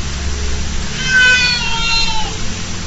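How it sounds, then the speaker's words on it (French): A distressed cat meows in a home, a couple of drawn-out, wavering cries heard fairly close over low background hum, with no speech. "et le chat il est super vénère là"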